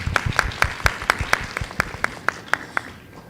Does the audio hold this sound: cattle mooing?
no